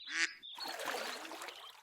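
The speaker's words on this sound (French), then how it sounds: "Un canard." A single loud duck quack up close, followed by a rustling, noisy wash of background sound.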